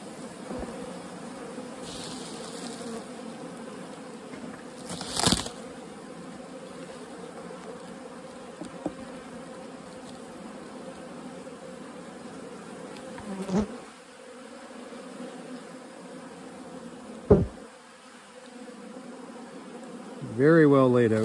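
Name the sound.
honey bees buzzing around hive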